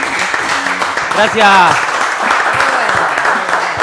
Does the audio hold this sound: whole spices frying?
no